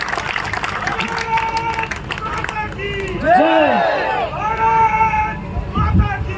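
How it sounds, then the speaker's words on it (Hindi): An audience at a poetry recital claps, a brief burst of applause mixed with crowd noise and a voice speaking over it. "तालियां कमजोर है साहब आपकी, एक बार जोरदार स्वागत करें"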